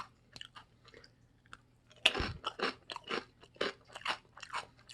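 Crunching and chewing on a Samyang black sugar Jjanggu snack, close and loud, with an irregular run of crisp bites and crackles and no talking.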